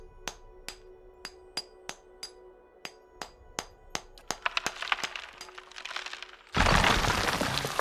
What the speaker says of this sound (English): Use the hammer and chisel.